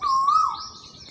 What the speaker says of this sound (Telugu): ఇట్లా పొద్దుగానే కోయిల సౌండ్తో అయితే డే అయితే స్టార్ట్ అయిపోయింది